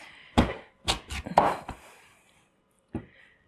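A knife chopping washed beets and sweet potatoes into one-centimeter cubes on a board: several quick crisp chops in a short cluster, then a pause and one final chop, close and clear.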